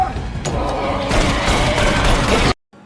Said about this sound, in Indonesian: Robert melihat pistol di atas meja lalu bergegas mengambil dan menembak Darkseeker.